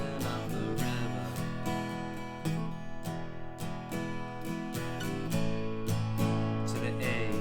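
Acoustic guitar strums chords with added embellishments, steady rhythmic strokes ringing out close and clear, no voice.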